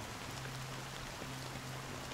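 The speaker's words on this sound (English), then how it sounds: "This rain been ongoing." Rain falls in the video game Honkai: Star Rail as a soft, continuous hiss of drops, faint and even, with a low steady hum running underneath and no speech.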